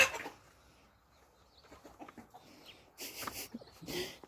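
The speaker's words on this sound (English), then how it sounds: "Chicken's just starting shit." Chickens cluck in a farm coop during a late-November garden tour, giving short, close, irregular clucks and squawks that grow louder and busier toward the end.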